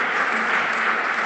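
Brief burst of audience applause for Ontario's Minister of Transportation, an even wash of clapping from a room full of people lasting barely over a second.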